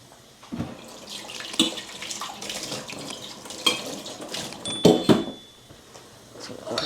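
Hot water is poured into a pot of khichdi with dal, giving intermittent splashing gushes with a few metallic clinks of pot and utensil between pours, fairly close.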